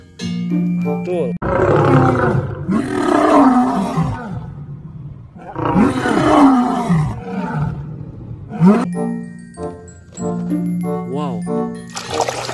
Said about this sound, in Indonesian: Wow, singa.